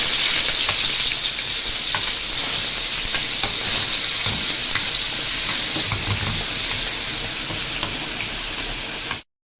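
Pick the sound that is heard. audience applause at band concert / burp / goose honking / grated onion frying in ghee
grated onion frying in ghee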